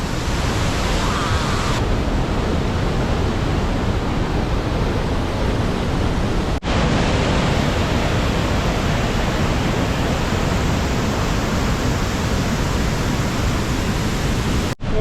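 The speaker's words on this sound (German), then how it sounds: "Wir haben diesen ganzen Wasserfall für uns." A waterfall in southern Vietnam roars with dense, constant rushing water close by, loud and unbroken with no voices heard.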